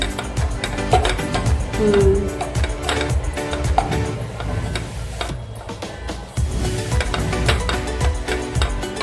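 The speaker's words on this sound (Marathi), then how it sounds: "आता ह्या मस्त असं छानसं भाजून घेऊ आपण याला." Fresh grated coconut roasts in a pan over low gas, giving a steady soft sizzle with frequent scraping and ticking stir strokes, close and continuous for several seconds.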